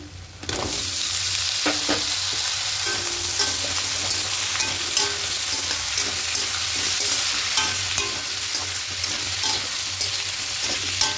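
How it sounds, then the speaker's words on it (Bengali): Vegetables for spinach and prawn curry frying lightly in oil with onion: a loud, unbroken sizzle up close, dotted throughout with small spatula clicks and scrapes as they are stirred. "এবার এই সবজিগুলো একটু হালকা করে ভেজে নেব।"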